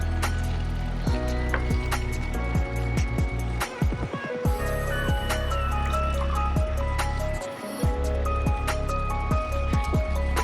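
Rice being poured in with its soaking water drained off for a one-pot chicken tehari, giving a steady close watery trickling and splashing with scattered clinks throughout.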